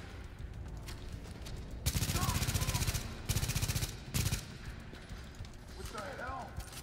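Rapid bursts of automatic gunfire from The Division shooter game, with loud sustained volleys and separate single shots amid ambient game sounds, while a player talks excitedly over the action.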